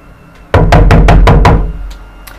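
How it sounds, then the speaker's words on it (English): Six firm, evenly spaced knocks on a door, loud and close, followed by a couple of faint taps as the sound dies away. "recognize that that was actually a knock"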